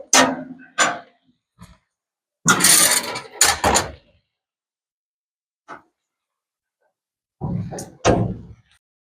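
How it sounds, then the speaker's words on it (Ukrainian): A folding table on a BBQ food truck is flipped back, giving several loud clattering metal bangs and knocks in separate bursts with quiet gaps between them. "Лише попередньо треба відкинути столик."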